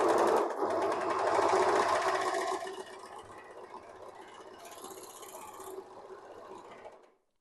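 A serger sewing machine run by its foot control whirs loudly up close, a fast, even mechanical buzz that drops to a quieter hum partway through and then stops.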